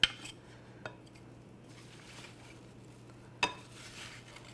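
Watermelon salad with fresh mint and basil is lightly tossed in a bowl, giving a few soft, sharp utensil clinks over a quiet background hum.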